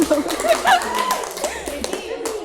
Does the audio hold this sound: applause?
yes